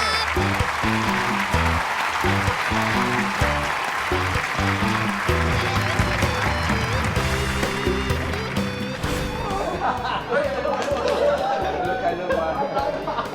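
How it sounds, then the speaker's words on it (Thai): Audience applause and crowd chatter at a Thai youth band music audition, a steady dense clapping wash blended with loud band music throughout. "ขอเสียงปรบมือ"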